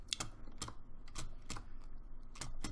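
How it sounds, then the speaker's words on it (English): Fast, intense clatter of computer keyboard keys pressed while playing a Roblox obby game, close bursts of clicks repeating roughly every half second over faint background hum, no talking. "Did you hear that intense keyboard pressing?"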